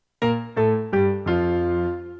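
Keyboard playing worship-style chords with octaves in the right hand and single bass notes in the left, four warm struck chords in quick succession, the last left to ring, clear and close with no talk.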